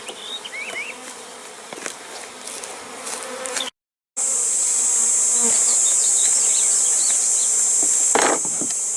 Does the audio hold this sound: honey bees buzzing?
yes